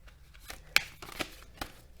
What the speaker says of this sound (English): So I'm just going to shuffle the tarot.